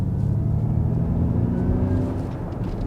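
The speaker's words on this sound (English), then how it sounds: "listen to the noise as I accelerate" A Ford Mustang Mach-E electric SUV in untamed mode accelerates with a steady, loud synthetic rumbling drone heard from inside the cabin, easing slightly toward the end.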